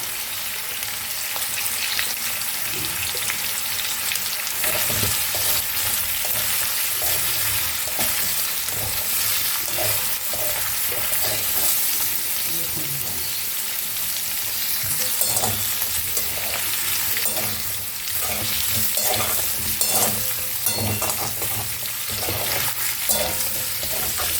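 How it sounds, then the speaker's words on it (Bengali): Carrots fry in a pan of oil as vegetables go in for a chicken soup, giving a continuous close sizzle with occasional scraping and stirring clatter throughout. "গাজরটাকে ভাজা হয়ে গেছে"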